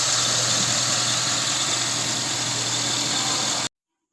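2007 GMC Yukon engine idling steadily, a constant even hum with a smooth low throb, close and unchanging until it cuts off abruptly near the end, no voices.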